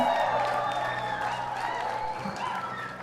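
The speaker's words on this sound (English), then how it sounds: "Keep clapping. Keep clapping." An audience at a leadership teaching event claps steadily. The applause comes at moderate volume, with a few cheers and a hum of voices mixed in.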